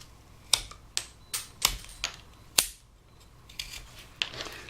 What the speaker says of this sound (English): I'm going to cut off that part right there. Let me get a stiffer knife.